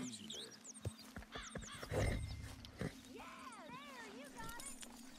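A horse in the video game Red Dead Redemption 2 whinnies with rising and falling calls among scattered hoof clops and thuds, fairly faint, while people talk over it.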